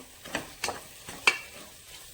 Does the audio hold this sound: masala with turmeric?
yes